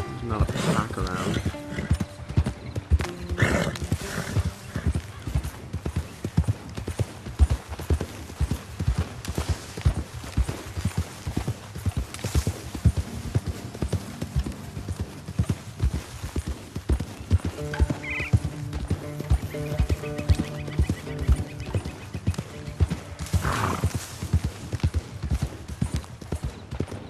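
Rapid hoofbeats clop continuously as a horse gallops in the video game Red Dead Redemption 2, with an occasional whinny and snort, loud and close, while a person talks over it.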